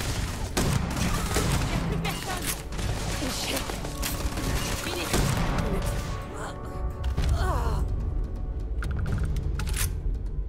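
Rifle fire in the sci-fi shooter Starfield, with dense bursts of shots and impacts filling the first part, then a brief mechanical clatter as the shooting thins out, under a voice commenting.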